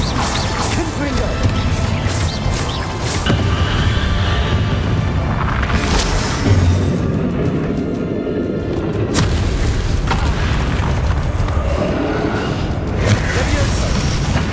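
Repeated booming blasts and crashing impacts from Confringo fire spells in the Hogwarts Legacy video game, several loud hits in irregular succession over combat effects, with a voice speaking at times.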